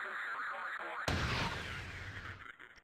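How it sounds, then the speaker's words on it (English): A space station's automated cannon firing in a space combat video game, a single sharp heavy blast that rings out and slowly decays, following a quieter stretch of hum and muffled game sound. "What is that cannon shooting at?"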